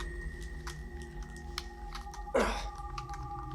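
Faint, scattered clicks of buttons being pressed, like light typing, over a low background hum, with one louder rustle near the end.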